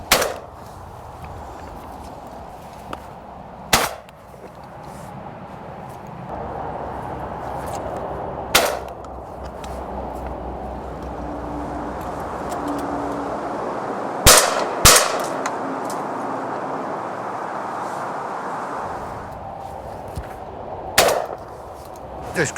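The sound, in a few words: shotgun shots fired at pigeons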